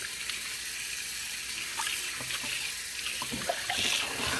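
Tap water runs steadily into a sink while an ENJO floor fibre is rinsed out by hand, a continuous close hiss with faint splashes and shifts as the fibre is moved.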